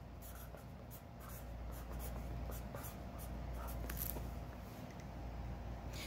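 Pen scratching across a small piece of paper in a quiet room, a soft continuous scribble with brief strokes and pauses, close by and fairly faint.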